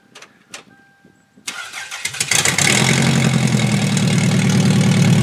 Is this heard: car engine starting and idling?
yes